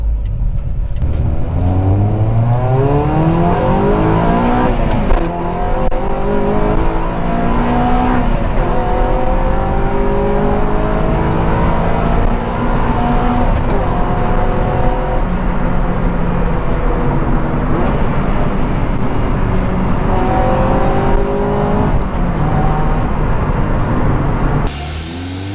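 Honda Prelude VTi with an H22 engine pulling hard through the gears, loud revs climbing and dropping repeatedly with each shift, close and continuous with no talk.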